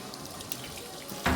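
Tap water running steadily into a sink while raw chicken is washed in lukewarm water, a continuous close splashing flow with a brief louder splash at the end.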